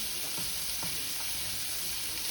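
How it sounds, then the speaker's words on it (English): Shrimp frying in a pot for gumbo, a continuous dense hiss and crackle of sizzling with faint stirring taps, steady and close throughout. "while the third round of shrimp are cooking"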